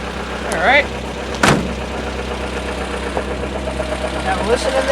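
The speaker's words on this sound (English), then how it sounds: "you can hear the valves kind of doing their thing. It kind of sounds like a sewing machine" A Volvo 544 engine idles with fresh-set valves ticking rapidly like a sewing machine, a steady close mechanical patter with a brief clunk partway through and a voice speaking over it.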